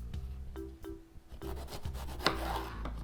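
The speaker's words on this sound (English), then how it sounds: "You just want to get a nice slice" Knife slicing through an orange bell pepper on a cutting board, a few close crisp cuts with rubbing and rasping strokes, the last one sharper and followed by a brief scraping rustle.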